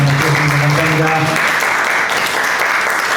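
A church congregation at a Korean Presbyterian church praise team seminar applauds, broad loud clapping from many hands, with a voice speaking over the start before the clapping continues alone.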